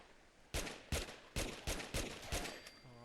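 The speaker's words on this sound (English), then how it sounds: "let's put 10 more bullets on top of those 9" Gunfire in Fallout 4 aimed at feral ghouls: six loud, evenly spaced gunshots about half a second apart, sharp and close, each with a short decaying tail.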